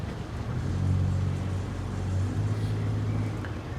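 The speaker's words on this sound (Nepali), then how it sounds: "पारी डुङ्गा अर्को डुङ्गा पानी उडाउँदै साथीहरू" Boats moving on the water in London, a steady low engine rumble with some water noise, moderately close and continuous.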